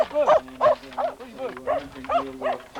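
A working sheepdog barks repeatedly in a steady rhythm, about six sharp barks close by, with a low hum running underneath.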